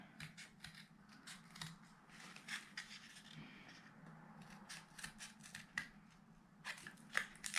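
Scissors cut a cardboard toilet paper roll into flower petals for a toddler craft, giving a quick run of crisp, close snips and papery crunches with a steady low hum underneath.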